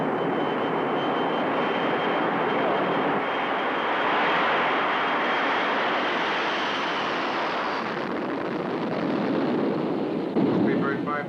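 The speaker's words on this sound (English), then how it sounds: "Speedbird 510, cleared for takeoff, 13 right." Jet airliner engines roar at full takeoff power in a steady, loud, broadband wash that holds for about eight seconds and then eases slightly, with a brief burst near the end.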